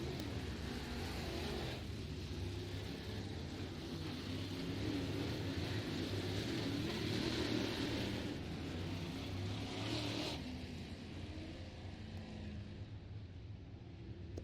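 Crate race cars circle a dirt oval at East Bay, a sustained engine drone that rises and falls as the pack passes, heard distantly and fairly faint without talk.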